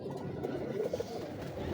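Older Ferozpuri pigeons coo softly at a distance on a windy day, their low murmuring calls blending into steady wind and ambient noise.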